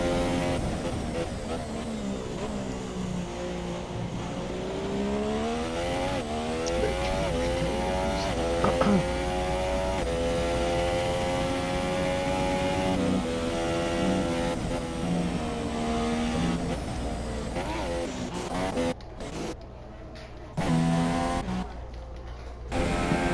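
Formula 1 race car engine in F1 2017 at the Circuit of the Americas, a loud, continuous high-revving whine that rises and falls through gear changes, with brief dropouts near the end.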